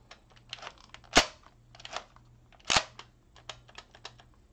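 A Toilet Paper Blasters Skid Shot toy blaster fires two sharp, loud snapping shots about a second and a half apart, surrounded by quieter plastic clicks and handling noises close by.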